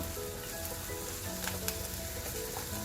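Onion and bell pepper sauté in hot oil as an Indian dry capsicum dish cooks, a steady close sizzle with faint stirring clicks throughout.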